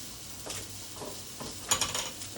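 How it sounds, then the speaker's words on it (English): Celery sautéing in a pan makes a soft, continuous sizzle, with a few light scrapes and clinks of the utensil against the pan. "It's almost like blanching via sauteing."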